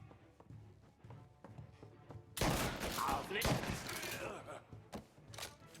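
Gunfire erupts in a shootout in the Mafia Definitive Edition video game, a dense burst of loud, rapid shots and thuds after quieter scattered pops, with talk in the background.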